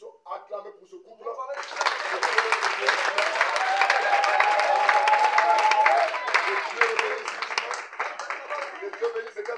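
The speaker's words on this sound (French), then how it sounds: "Voilà pourquoi j'aimerais que nous puissions acclamer pour ce couple." Church congregation applauding a couple: a full, sustained burst of many hands clapping that swells and carries on for several seconds, with a voice speaking over it.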